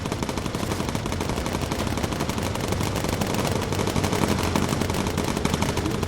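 Bomber Crew gameplay: a bomber's machine guns firing in long, rapid, sustained bursts, loud and close, with dense, rattling repetition filling the whole stretch and no voices.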